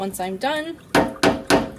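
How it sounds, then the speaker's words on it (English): A wet paintbrush is tapped against a hard surface three times in an even rhythm, each knock short and sharp and close, after a brief stretch of speech. "I tap off the extra, and then I want to kind of smooth the bristles back into shape"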